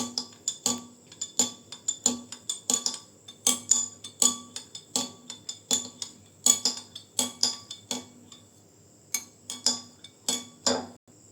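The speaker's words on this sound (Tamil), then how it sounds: "இப்போ நல்லா மிக்ஸ் பண்ணி விட்டுக்கலாம்." A spoon stirs badam pisin juice, clinking steadily against the glass or vessel with dozens of sharp, bright taps in an uneven rhythm, close and clear, with no talk.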